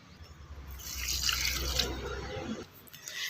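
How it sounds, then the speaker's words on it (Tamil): Water poured into a container of homemade liquid plant fertilizer for roses and other garden plants, a steady splashing trickle that swells in the middle and tapers off near the end, with no one talking. "இதில் வந்து தண்ணி சேர்த்துக்கிறேன்"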